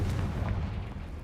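A Confringo spell blast in Hogwarts Legacy: a brief, loud, deep explosive boom rumbling throughout.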